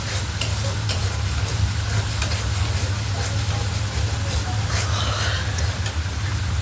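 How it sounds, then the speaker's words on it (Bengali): Turmeric and spices for a fish curry fry in a pan with a steady, even sizzle and the soft scrape of stirring, continuous and close throughout. "এখন ভালো করে ভেজে নেব"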